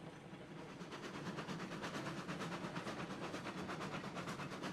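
Steam locomotive rolling along track through a tight corner in Railroads Online, steady clickety-clack rhythm with a continuous mechanical rumble, moderately loud and without talk.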